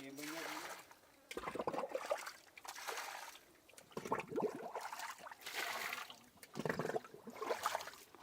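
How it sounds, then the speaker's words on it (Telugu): Water trickles and splashes out of an underground tunnel at a shrine to Lord Shiva beneath a broken tree, a soft, continuous burbling that swells and fades in waves. "అక్కడ లోపల నుంచి మీకు వాటర్ ఆ సొరంగంలో నుంచి బయటకు వస్తుంది."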